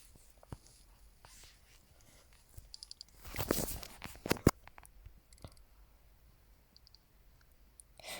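A computer mouse clicks in sharp, scattered single taps, faint and close, with a soft burst of rustling noise in the middle.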